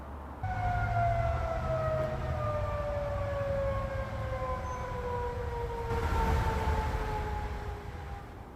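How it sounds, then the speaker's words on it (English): Denver's outdoor tornado sirens wail steadily and loud, a long sustained tone that slowly falls in pitch over several seconds, with no voices. "OEM says that tornado sirens should not have gone off this afternoon"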